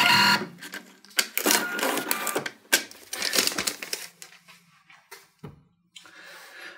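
A Pax point-of-sale terminal prints a merchant receipt with loud, stuttering bursts of thermal-printer whirring and clicking, ending with a short tear or click and a brief final rattle.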